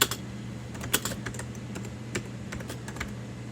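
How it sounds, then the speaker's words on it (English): Keys clatter on an Amiga 2000 computer keyboard, a run of close, crisp clicks in an irregular rhythm with a few sharper strokes, over a steady low hum and no talk. "Now I can type like I should have."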